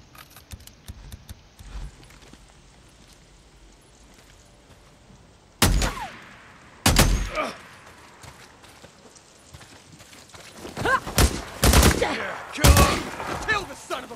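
Sparse, loud gunshots ring out in the zombie-survival video game Days Gone. A few isolated cracks are followed by a quicker cluster of shots, with quiet ambient stretches between them.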